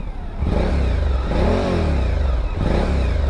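A Suzuki V-Strom 1050 motorcycle engine revs in rising and falling swells over a deep, steady rumble, close and loud throughout.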